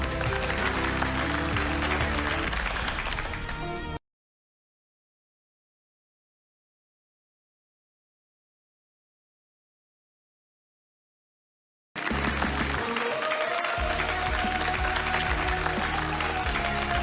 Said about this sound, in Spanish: Aplausos para el presidente Fernando Ramírez para cortar la cinta del Grupo Génesis.